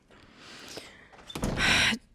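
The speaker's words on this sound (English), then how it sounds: "Let me just close this door." A door is swung shut indoors, close and fairly loud: a brief creak, then a sustained rushing swish and thump as it closes, followed by quiet.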